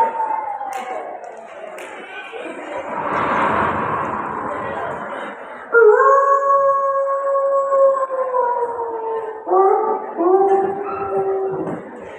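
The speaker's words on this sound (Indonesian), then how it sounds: "cuma suara serigala" A wolf howling sound effect plays during a children's storytelling performance at a school event: after a murky, rumbling opening, long layered howls rise and hold for several seconds, then a second round of wavering howls follows near the end.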